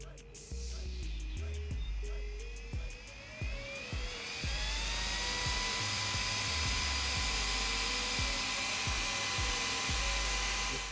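Two cooling fans on an Arrma Kraton RC truck run from 7.4 volts, giving a steady, loud, close high-pitched whine that holds on alone for several seconds, with light clicks near the start.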